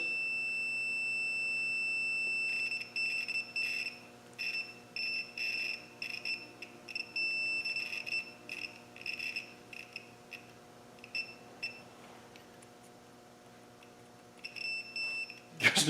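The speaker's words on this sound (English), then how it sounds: "you can hear the points singing away because they're now closed" Ignition points in a distributor on a 2.25 engine singing while the engine is turned slowly by hand: a high, thin electrical whine in repeated bursts of varying length, steady and fairly close, with no talk.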